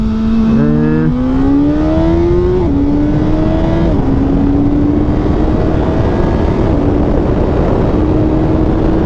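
A 2022 Suzuki Hayabusa motorcycle pulls hard in a 60-130 acceleration test, its engine note climbing steadily through several gear shifts, loud and close over heavy wind rush.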